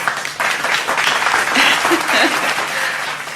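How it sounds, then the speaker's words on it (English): A short burst of applause, a small group clapping steadily for a few seconds, fairly close and moderately loud. "A round of applause."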